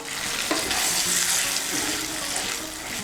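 A little water, rinsed from a bowl of poppy-seed paste, is poured into a cooking pan of ridge gourd and potatoes. A steady close splashing pour runs for a few seconds without any talk.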